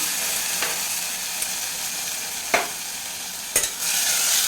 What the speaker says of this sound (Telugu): కొద్దిగా ఆయిల్ వేసుకుంటున్నాను. ఇది నానబెట్టి పెట్టుకున్నాను కదండి, అన్ని పప్పులు ఇందులోకి వేసేస్తాను.